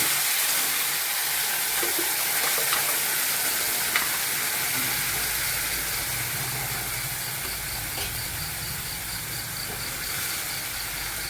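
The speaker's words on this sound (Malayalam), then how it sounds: "ഉള്ളി മൂത്ത് വരുമ്പോൾ ഈ അരച്ച് വെച്ച ചട്നി ഒഴിക്കാം." Ground chutney poured into a pan of frying shallots with green chilli and curry leaves, giving a steady loud sizzle with stirring scrapes throughout; the sizzle deepens partway through as the wet chutney hits the oil.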